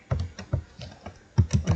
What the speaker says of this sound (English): I just type this address